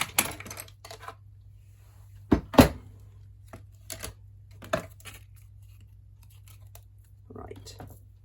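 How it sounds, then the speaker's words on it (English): Scissors slowly cutting card for a gift card holder, heard as a handful of crisp, close snips and small crunches spaced out over quiet, with a faint steady hum behind them. "So let's just cut that through nice and slow."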